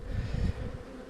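Calm honeybees at a large hive during a nectar dearth, a dense steady buzzing drone close by with no talking over it.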